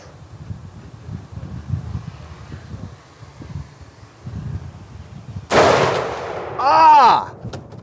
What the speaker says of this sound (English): I put the butt of the gun firmly against my shoulder. I look through my scope, which has a zoom feature. I zoom in. I see my shot.